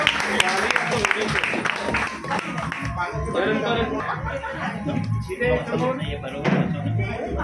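Applause at a 1995–96 school batch reunion gathering: a burst of hand clapping at the start that fades into lively chatter, laughter and talking voices, with a few knocks and taps.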